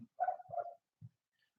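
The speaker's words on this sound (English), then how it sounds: "So I'm sorry if you guys hear the dogs" Dogs bark in the background of a home livestream, a short burst of two or three muffled yaps followed by one low woof, faint and somewhat distant.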